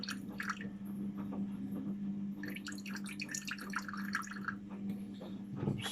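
Tepid water trickling and dripping into a measuring jug as it is poured for a sourdough starter, faint and close, with no talking over it.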